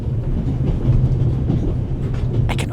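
Train rolling on rails in the video game The Raven, set on a train in the Alps: a loud, steady low rumble of wheels and carriage with a brief rattling clatter near the end.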